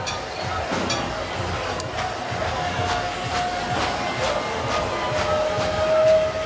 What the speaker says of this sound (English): The Pride train from Sunserve is getting ready to move right past their corporate headquarters.